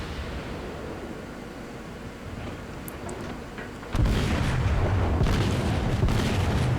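Warship broadside in a naval combat game: after a quieter stretch of distant rumble, a heavy roaring burst of cannon fire and explosions erupts and sustains loudly to the end.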